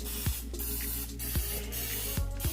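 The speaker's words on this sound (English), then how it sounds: "We're going to spray those down," Oil is spritzed onto chicken wings in an air fryer basket, four short hissing spray bursts in an irregular rhythm over a faint background hum.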